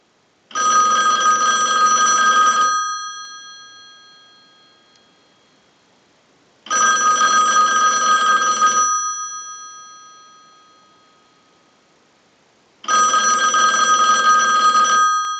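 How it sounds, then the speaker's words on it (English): A single-slot rotary dial payphone bell rings in three long bursts during a test ring cycle, each about two seconds, separated by pauses of silence. "send a ring cycle like you were getting a call"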